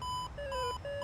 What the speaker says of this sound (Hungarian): magasságmérő csipog.